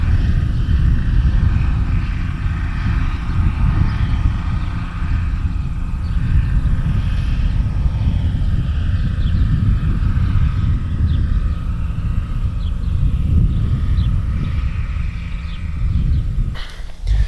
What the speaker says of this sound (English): There he goes. John Deere Gator diesel, 3-cylinder.